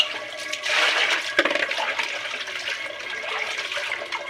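Water runs and splashes steadily while goat tripe is rinsed, with a brief clatter partway through and a continuous gushing flow throughout.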